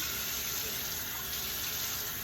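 Cold water running steadily from a kitchen tap, a continuous hiss and splash filling a container during homemade butter making from raw milk, close and even with no talk.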